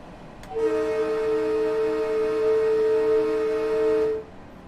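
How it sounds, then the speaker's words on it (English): A loud, steady train horn from Train Sim World 2 (Harlem Line) blares for about three and a half seconds in a single sustained chord, then cuts off. "forgot to blow the horn"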